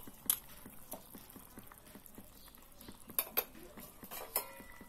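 A fish curry with potato and tomato gets stirred in a metal pot after water is added, the spoon clinking and scraping against the sides in an irregular rhythm of light taps, fairly quiet and close with no voices.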